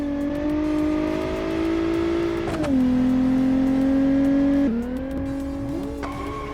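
A car in the Automation build-off, a 1982 Viper concept, drives with a steady engine drone that drops in pitch at two gear shifts, loud and close, with faint tire noise and no talk.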